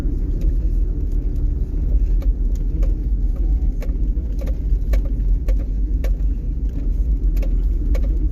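Car driving slowly across a goldfield, a loud steady low engine and tyre rumble close by with faint clicks and bird calls over it.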